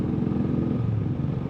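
A nearly new Honda CRF300L motorcycle engine drones steadily during a test ride, a close, loud, even hum whose pitch drops slightly midway as the rider eases off.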